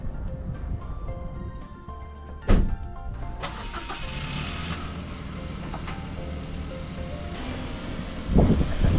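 A car engine cranks and fires up with a sharp start, then idles and revs as it pulls away, a steady mid-pitched hum running throughout, with a second jolt near the end.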